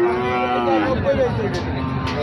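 Cattle at a busy cattle market selling Sahiwal, Nepali Gir and Pakhra breed bulls and heifers give a long, loud, droning moo close by, with crowd noise and voices underneath.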